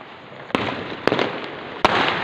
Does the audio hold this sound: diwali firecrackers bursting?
yes